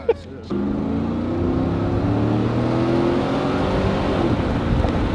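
A car with a newly replaced fuel pump accelerates hard. After a brief quiet moment, a loud engine drone kicks in and keeps climbing steadily for several seconds, heard from close by, likely inside the car.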